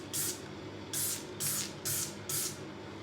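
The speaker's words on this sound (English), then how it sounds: "So let me spray the other area." Five quick hissing sprays from a spray bottle of mold remover on a mould-stained ceiling and walls, evenly spaced bursts, moderately close and fairly quiet, with no talking.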